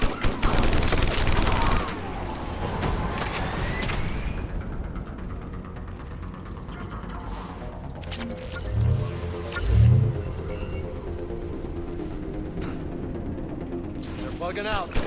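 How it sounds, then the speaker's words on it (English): Mortar fire and battlefield gunfire in the Mass Effect game, a dense burst of shots at the start, then scattered booms and rumbles under game voices and low ambience. "we're getting a lot of mortar fire"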